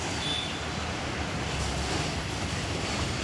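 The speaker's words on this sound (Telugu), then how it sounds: "ఆయిల్ వేడెక్కింది కదా ఒక్కొక్కటి ఆయిల్లో వేసేసుకుందాం" Pieces dropped into hot oil fry with a steady, dense sizzle close by, a continuous crackling hiss that holds level throughout.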